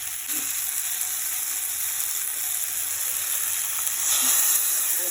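Ground mustard spice paste hitting a hot frying pan, a steady close hiss of sizzling oil with a couple of faint clicks, swelling slightly louder near the end.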